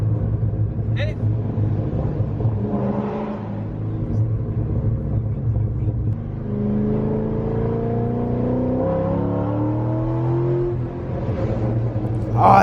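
A 6-liter Chevrolet C6 Corvette engine rumbles and then revs, its pitch rising steadily as it accelerates. The deep engine note sits close and loud under excited talking from people in the car.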